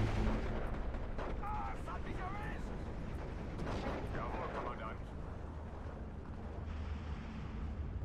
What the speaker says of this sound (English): I was firing at where my mortars were.